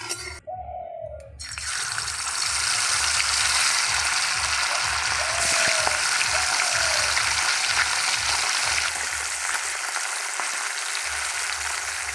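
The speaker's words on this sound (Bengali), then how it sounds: "এবার মাছ ভাজার জন্য তেল দিয়ে দেবো।" Hot oil sizzles and crackles steadily in a wok over a wood-fired village stove, with small puti fish frying in it, a dense close hiss with a rhythmic low knocking underneath.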